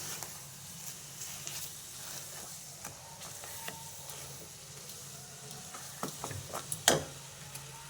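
Jaggery melts in a heated kadai while being stirred for laddoos, giving quiet scraping and a soft sizzle, with a sharper clatter near the end.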